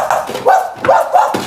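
A human voice imitates a dog, giving several short, sharp barks in a quick series up close.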